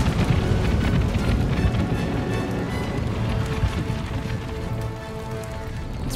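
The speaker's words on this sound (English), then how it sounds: "this canister shot should help" Canister shot artillery fire in Empire: Total War, a dense rumbling barrage of cannon booms and scattering impacts rolling continuously under battle noise, loud and close throughout.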